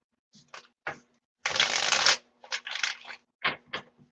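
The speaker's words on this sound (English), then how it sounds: "I'm using 2 different tarot decks tonight" Tarot cards being shuffled by hand in several separate riffling bursts, one long shuffle in the middle and shorter ones around it, close and fairly loud, with no talking.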